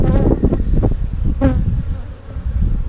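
A loud, close swarm of honey bees hums around an opened colony, the buzzing broken by a few knocks and scrapes of hive equipment, with no one talking.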